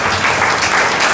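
An audience claps together for a birthday at a youth seminar. The applause is dense and steady, loud and close, and fills the whole short moment without a break.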